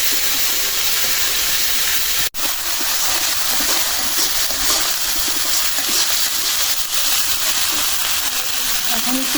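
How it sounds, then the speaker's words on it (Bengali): Ginger-garlic paste fries in a hot pan with a loud, steady sizzling hiss that carries on throughout, broken only by one brief dip early on. "আদা রসুন বাটাটা একটু ভাইজা নিচে"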